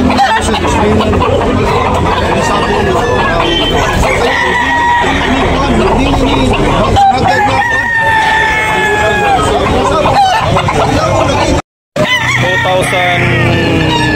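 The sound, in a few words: rooster crowing and clucking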